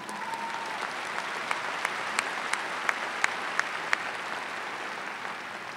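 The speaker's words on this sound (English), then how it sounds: "You want to give her a round of applause?" A graduating crowd at a university commencement in Boston breaks into steady applause, a broad wash of clapping with a few sharper individual claps standing out, holding at an even level throughout.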